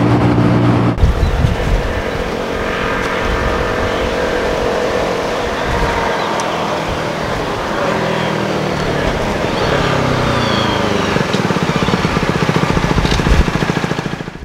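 A Neco NC-N01 125 motorcycle engine drones steadily while riding at around 50 mph, mixed with loud wind rush and road noise that persist throughout.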